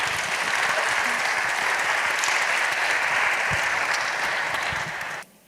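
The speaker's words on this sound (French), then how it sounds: "Oui, on peut les applaudir." Steady audience applause from a French theatre-programme crowd, a dense wash of many hands clapping at even loudness that cuts off abruptly near the end.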